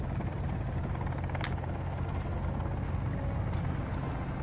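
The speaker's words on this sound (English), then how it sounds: "Helicopter." A helicopter in the video game Sons of the Forest drones with a steady low rotor thump and engine rumble, continuous and fairly close, with no talk.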